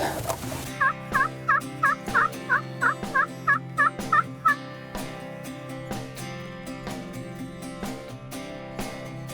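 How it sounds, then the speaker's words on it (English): A wild turkey gobbles during an Oklahoma turkey hunt, a run of about eight rapid, rattling gobbles spaced close together, fairly near and loud, then the outdoor air goes quieter. "I heard a gobble"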